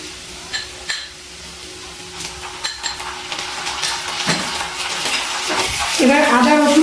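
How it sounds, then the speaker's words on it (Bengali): Ginger and garlic paste is stirred into frying onions in a pan: a bubbling sizzle rising toward the end, with scattered utensil scrapes and clinks against the pan. "এবার আদা রসুন পেস্ট ভালো করে নাড়াচাড়া করে কষিয়ে দিচ্ছি।"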